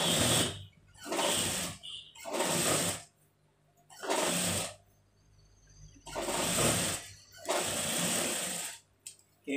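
A sewing machine stitches a salwar hem in repeated bursts, each run of rapid whirring lasting about a second with short quiet pauses between, close and loud.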